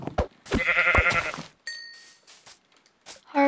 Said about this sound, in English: Oh, is that a sheep?